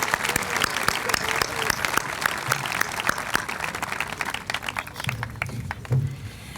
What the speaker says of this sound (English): Please help me give these students a big round of applause for their outstanding accomplishments.